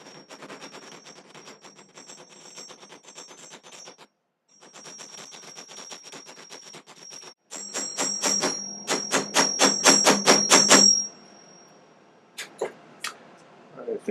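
Silver pounded with a hammer on an anvil: bursts of rapid light tapping, then a louder, denser flurry of ringing metallic blows near the end, close up with a few separate strikes after.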